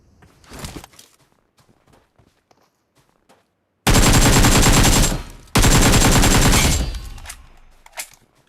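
Automatic gunfire from PUBG Mobile during a Global Championship esports match: two long, loud, sustained bursts of rapid shots, each lasting over a second, preceded by a few faint scattered thumps.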